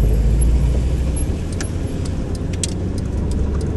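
A passing Fiat Bravo car on a road in Lyon gives a steady, close engine and tire rumble throughout, with faint light metallic jingles above it and no talk.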